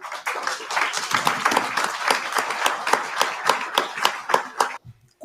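An audience bursts into applause after a Brazilian talk about judicial activism: dense, lively clapping with sharp individual claps standing out, then it cuts off abruptly near the end.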